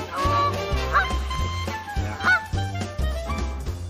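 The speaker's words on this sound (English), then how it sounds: "That goose is just laughing at me." A goose honks beside a coastal fishing spot, giving a few loud nasal calls in short bursts over a busy, murmuring outdoor background.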